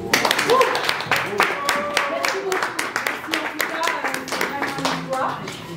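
Audience clapping after a call to applaud a Congolese artist set to play the Casino de Paris, a dense patter of hands with voices talking over it throughout.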